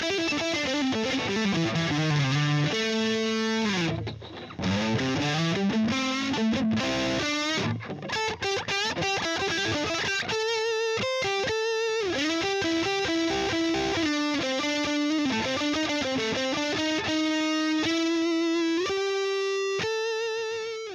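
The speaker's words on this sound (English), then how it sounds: "I got some really neat fluid lead tones out of the neck and middle positions on this." A purple sparkle Epiphone Explorer electric guitar, played through its neck and middle pickups, gives smooth, fluid distorted lead lines with sustained bends and melodic runs, loud and continuous without any talk.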